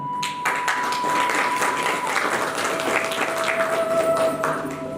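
An audience claps at a Bhagavat Katha religious discourse, a dense, continuous round of applause with distinct individual claps, loud and close, while a faint steady tone hums underneath.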